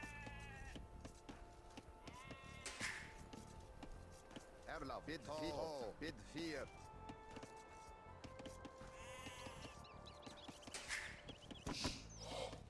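Sheep bleat in a flock in the William Wallace campaign of a strategy game, several calls rising over game music and effects while someone talks over them.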